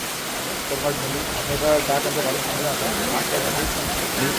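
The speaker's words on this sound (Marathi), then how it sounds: "असला जोरात पाऊस येतोय ना, आवाज येतोय" Heavy rain in the Konkan region roars as a steady broadband wash throughout, with a person speaking over it in the middle.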